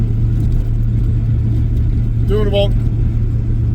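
A truck drives at around 45 to 50 mph in extreme -40 cold, a steady low engine drone with road rumble throughout, and someone speaks briefly over it.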